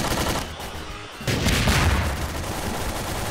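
A grenade blast in Garry's Mod erupts as a sudden loud explosive burst, then rumbles on as a broad noisy roar over a steady backdrop of game noise.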